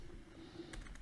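Typing on a computer keyboard: a short run of soft, quick key taps close by, faint and brief, with no voices.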